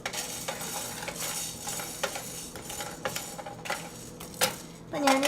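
Mace, cinnamon, cardamom and cloves being dry-roasted for biriyani masala in a pan make light scraping and ticking as they are stirred, with a soft background hiss and a few sharper clinks of a utensil against the metal.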